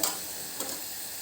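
Turmeric and red chilli powder sizzle briefly with browned onions in a pan while being stirred; a soft, faint hiss with a couple of light stirring scrapes, no voices.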